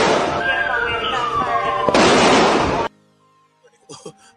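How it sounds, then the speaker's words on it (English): An exchange of gunfire in action-movie style makes a dense, loud roar of overlapping bursts and blasts for about three seconds, then cuts off abruptly, followed by a brief bit of talking. "It looks like an exchange of gunfire right out of a Hollywood action movie"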